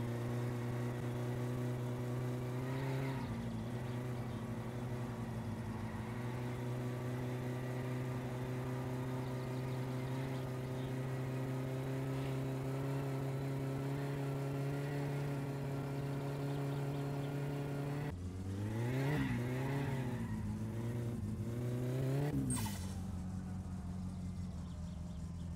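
A car engine in the driving simulator My Summer Car, a steady droning idle with a rough harmonic hum that swells into a couple of brief revs near the end, with no talking.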